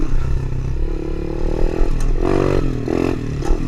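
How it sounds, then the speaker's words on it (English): A Tao Tao DB24 pit bike engine runs steadily and loudly, with the throttle rolled on and off so the revs surge and drop in short repeated swells. No voices are heard. "He's real bad to kind of go on and off with the throttle, kind of like that."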